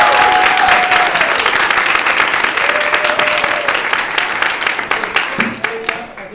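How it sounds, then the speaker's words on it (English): An audience claps for thesis presenters at an English department event, a loud dense round of applause that thins and tapers toward the end, with a few voices audible beneath it. "One round of applause for"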